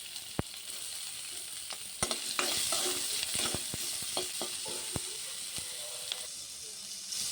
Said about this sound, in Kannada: ನೋಡಿ, ಈಗ ಈರುಳ್ಳಿ ಫ್ರೈ ಆಗಿದೆ.